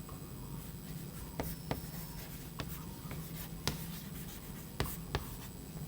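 Marker or chalk strokes on a lecture board, quiet tapping and scraping in short irregular bursts with sharp clicks as the writing proceeds, no voice.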